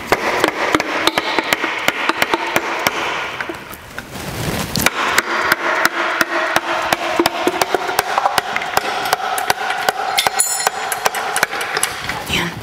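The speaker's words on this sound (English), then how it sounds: "So we've got some screwdrivers here so that we can gently pry this off." Tapping and prying with screwdrivers on the front cover of a Ford 8N/9N/2N tractor engine during disassembly, a dense run of sharp metallic knocks and clicks close by, with no talk.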